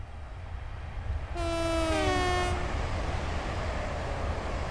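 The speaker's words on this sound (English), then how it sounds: "Let's watch our train go past." Class 380 electric train passing by in Train Simulator 2015: a two-tone horn sounds clearly for about a second, followed by a steady rolling rumble that continues alone.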